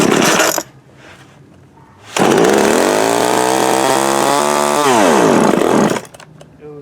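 A Montgomery Ward TMC 24052B chainsaw sputters on a pull, then catches and revs loudly for several seconds, its pitch falling before it dies away again.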